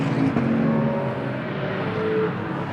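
GT race cars run on the Moscow circuit during free practice. Their engines make a dense, continuous roar with rising and falling tones as the cars pass and accelerate, loud and fairly close.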